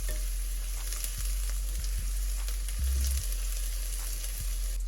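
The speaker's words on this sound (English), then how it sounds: "We'll start with some chopped garlic. We'll stir it real quick." Chopped garlic stir-fried in hot olive oil, a close, continuous sizzle with a few soft utensil knocks against the pan, no voices over it.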